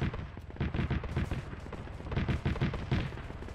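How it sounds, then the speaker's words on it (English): Gunfire in the video game Halo ODST, dense rapid bursts of shots and impacts crackling continuously and loudly without pause. "He's shooting at me!"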